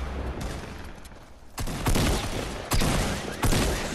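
Gunfire in the video game Fortnite comes as a dense rolling fusillade, several loud sustained bursts of rapid shots that rise and break off over a few seconds, with no talk.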